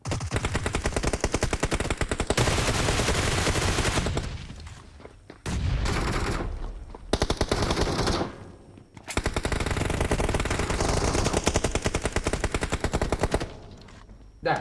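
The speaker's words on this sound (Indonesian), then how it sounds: "Kayak ada suara tembakan." Automatic gunfire in the mobile battle-royale game PUBG Mobile comes in long rapid bursts, loud and sustained. Brief gaps fall between the volleys.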